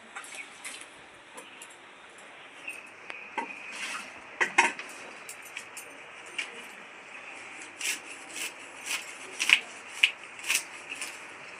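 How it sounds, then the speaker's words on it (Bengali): A knife works through a large ripe pineapple on a board, giving a series of irregular scraping, rasping cuts and light knocks, close and moderately loud, with no talking. "এই আনারসটা এখন আমি কেটে নেব।"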